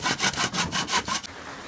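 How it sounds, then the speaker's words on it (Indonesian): Hand saw cutting through bamboo for an aquaponics frame, a loud, close rhythmic rasp of about six quick strokes before stopping, leaving quiet background. "langsung kita potong bambunya sesuai ukuran dari kerangka yang sudah kita buat tadi"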